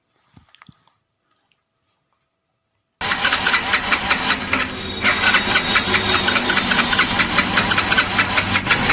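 A Hero Splendor BS6 fuel-injected motorcycle engine fires up after a quiet start with a few faint taps, then runs loud and close with a choppy, uneven misfiring beat as it is revved.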